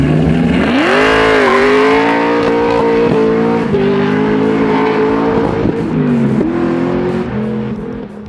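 A 750 hp supercharged LS9 V8 in a Camaro convertible roars at high revs, bouncing against the rev limiter with stuttering surges, loud and close throughout, then slowly easing off.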